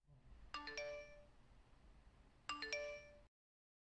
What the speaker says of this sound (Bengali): এক সপ্তাহ পর হঠাৎ একটা ফোন এলো।